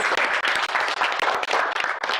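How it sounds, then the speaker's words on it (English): Spectators applaud at an equestrian competition after a rider's near-perfect score, a dense burst of clapping from a crowd, loud and close, running the full brief moment. "Big round of applause."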